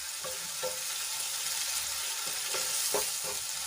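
Onions sautéing in oil in a pan, a bright, steady hiss of frying throughout, broken by a few soft scrapes and clacks as they are stirred, close and even in level.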